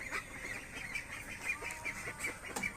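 Large ducks of a new breed give faint, repeated honking quacks in an irregular series over a quiet farmyard background, with no one talking.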